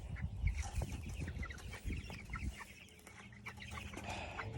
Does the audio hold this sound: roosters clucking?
yes